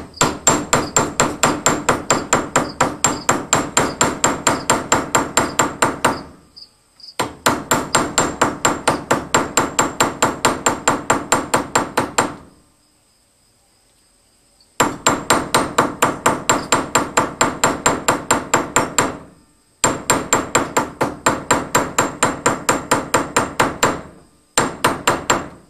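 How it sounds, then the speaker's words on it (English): Copper scraps being hammered into a copper rose, working around the edges with a metal hammer: rapid, steady, loud ringing blows in long runs, broken by a few short pauses. "And you grab your hammer here."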